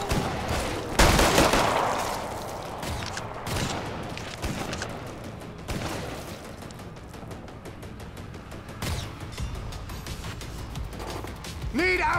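Rapid gunfire in Killing Floor 2: repeated loud shots and bursts crackle through a busy fight, mixed with game effects and short voice callouts from players and characters.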